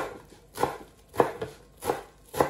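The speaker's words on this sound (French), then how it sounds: "je vais couper mes herbes, c'est-à-dire du persil et de la coriandre" Parsley and coriander being chopped with a knife on a board, four distinct crisp chops spaced about half a second apart, close and fairly quiet with no talking.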